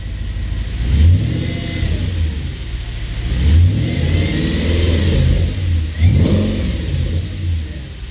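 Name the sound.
cold car engine revving noise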